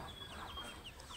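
A hen clucking while being given a sweet drink along with her chicks, short faint clucks and high chirps over a noisy background.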